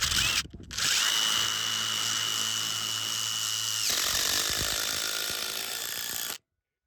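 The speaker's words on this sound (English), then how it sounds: "We're putting batten screws into the bearers to just pinch them together and just help them not separate over time." A power drill drives a long batten screw into timber bearers on a building site: a close, loud whirring motor run that lasts a few seconds, rises in pitch, then drops and stops, with no one speaking.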